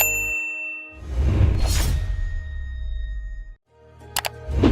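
Notification bell chime with a swelling whoosh, then a bright metallic ding near the end over a sustained tonal background.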